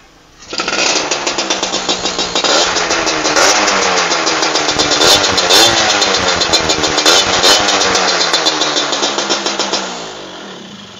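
A red-and-white 2002 Yamaha Viz R motorcycle engine starts abruptly and runs loud and close with a steady pulsing idle for about nine seconds before cutting off.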